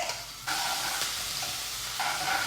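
Garlic and hot pepper sautéing in olive oil in a pan, a loud, steady sizzle with brief scraping stir sounds, close up and without talk.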